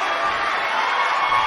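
Steady arena crowd noise from a capacity audience in the WWE 2K19 wrestling video game, a dense continuous roar of cheering that stays level throughout with no talk over it.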